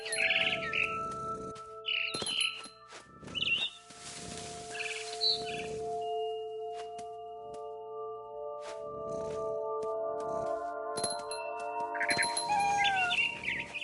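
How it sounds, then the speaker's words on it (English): High, repeated barn swallow chirps and tweets over sustained synthetic tones and sparse game-like sound effects in a video game, no speech. "Then I heard chirping outside my window."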